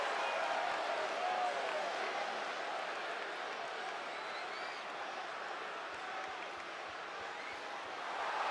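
A wrestling crowd roars for Aaron Matthews, a broad, sustained wash of cheering and noise that stays loud and steady throughout.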